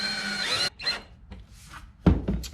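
A power drill drives stainless steel screws through a floor into a nesting post pipe, a sustained whirring run followed by shorter bursts and a loud final burst, close by with no talk.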